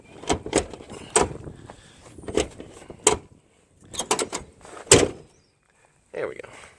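The sagging door of a Ford F250 truck, hanging low and needing new hinge pins, is worked back and forth, giving a series of close metallic clunks, rattles and thuds in irregular bursts with short pauses between them.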